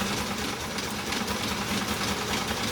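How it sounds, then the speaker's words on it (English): A White 966 sewing machine running a wide zigzag side stitch at its longest length, making a loud, dense, continuous mechanical whir close by with a steady rapid chatter throughout. "And it's loud because this is doing a lot of work"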